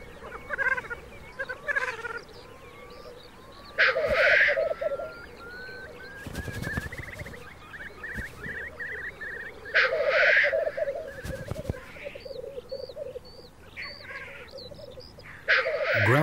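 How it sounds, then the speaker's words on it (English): Black grouse cocks dueling in early spring in the High Tatras: bubbling, rolling calls with sharp hissing bursts that repeat every few seconds, carrying over a steady chorus of nearby birdsong. "During the early spring days, black grouse cocks start their duels."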